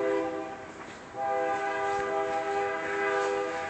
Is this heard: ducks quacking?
no